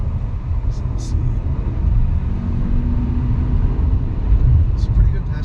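A 2020 VW Arteon SEL in S transmission mode accelerates to pass, its engine and road rumble forming a steady low drone from inside the cabin, with brief faint higher noises near the start and end.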